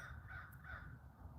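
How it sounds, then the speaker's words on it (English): A pair of crows gives two rasping caws in quick succession, fairly close and clear, over a constant low hum with no voices. "I don't know what's going on with the crows."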